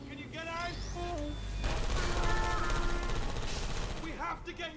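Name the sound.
gunfire in Portal 2 video game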